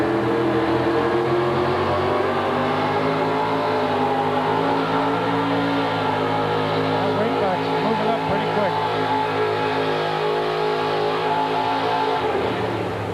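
A four-wheel-drive monster truck engine drones and revs continuously at a 1986 USHRA event in Philadelphia, its low rumble rising and falling throughout, loud and close, with a voice talking over it.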